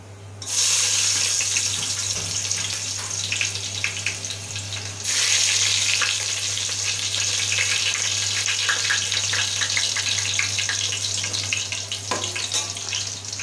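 Crushed garlic frying in a pan for a stuffed crab dish, giving a steady, dense sizzle that hisses on without pause and swells slightly partway through, with no talking.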